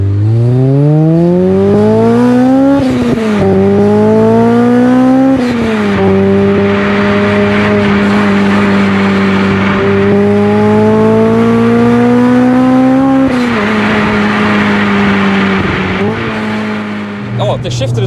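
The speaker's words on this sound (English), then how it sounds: "Oh, the VTEC crossover." A Honda Integra Type R DC5 engine pulls hard through the gears, its loud rising whine climbing in pitch through the VTEC crossover, dropping at each upshift and climbing again, heard from close inside the car.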